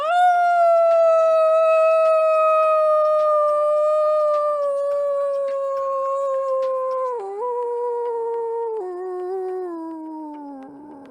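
A voice imitates a wolf howl, a long sustained tone that slides slowly downward over about eleven seconds and wavers near the end, heard alone and fairly loud.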